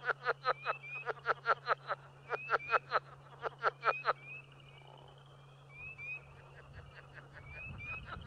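A southern leopard frog calls with a rapid series of loud, guttural chuckling croaks in quick bursts, then gives softer, sparser clucks against a quiet outdoor background.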